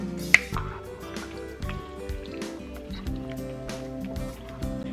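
Liquid poured into a pot of white chicken chili gives a steady, close pouring and dripping wash with small splashes, running throughout without speech.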